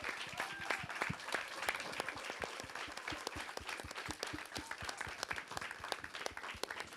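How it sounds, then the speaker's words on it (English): An audience at a film screening Q&A at Creative Alliance claps steadily, a dense, sustained applause of many hands throughout, with no speech over it. "shall we give Reggie and the entire Dakum family, who are here to support as well, a round of applause for this work"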